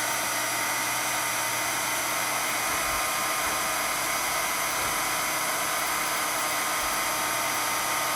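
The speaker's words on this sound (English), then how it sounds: "And get that under the heat tool." A small embossing heat gun blows hot air over a card. It makes a steady, close, hissing whoosh that holds unchanged for about eight seconds, and no voice is heard.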